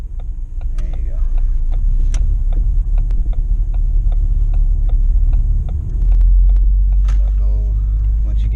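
A manual-transmission car pulling away slowly as a learner eases the clutch and adds a little gas: steady low engine rumble and throbbing from inside the cabin, swelling slightly partway through, with voices talking over it.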